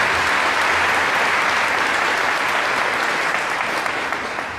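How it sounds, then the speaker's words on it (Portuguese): Loud, dense applause from a congregation at a Catholic Mass opening the Feast of Saint Joseph, sustained clapping throughout and tapering slightly at the end. "Uma salva de palmas mais uma vez."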